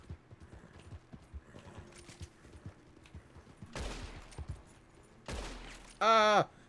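Gunfire in a RedM roleplay game: a scatter of small pops, then two loud, sharp blasts a couple of seconds apart, followed by a brief tonal burst at the end, with faint voices in the background.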